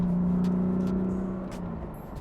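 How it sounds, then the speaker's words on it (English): Tuned 2015 BMW M3 with an MHD tune, its engine droning at steady revs with a sustained exhaust note from inside the car, easing slightly toward the end. "Much better note from the exhaust and economy."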